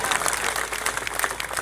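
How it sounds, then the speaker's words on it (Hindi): A dense crowd at a Delhi election campaign rally claps steadily and loudly throughout, a continuous wash of applause with no break. "तालियों से बताइए, दोनों हाथ उठा के"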